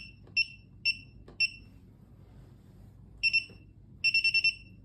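Short electronic beeps from a WS-212 security alarm keypad, first singly spaced apart, then a quick double and a fast run of five, crisp and close.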